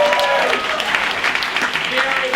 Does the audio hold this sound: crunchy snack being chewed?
no